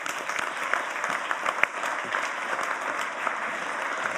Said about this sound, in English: A massive round of applause, please, for our Leader of the Council, Councillor Darren Cooper.